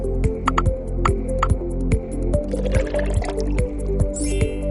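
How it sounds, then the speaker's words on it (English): Vinegar is poured into a glass of soda in a home science experiment, giving a trickling, splashing liquid sound with drips, set against a loud, steady rhythmic background. "Now pour some vinegar into it."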